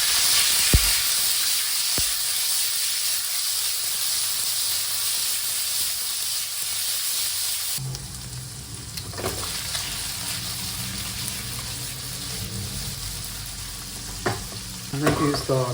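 Salmon fries in olive oil in a pan, a loud continuous sizzle and hiss with stirring clatter; the sound shifts and thickens partway through as the pan is worked.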